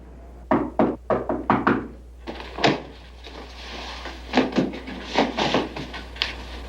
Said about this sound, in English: Why'd you knock?